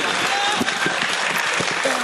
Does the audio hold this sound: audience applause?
yes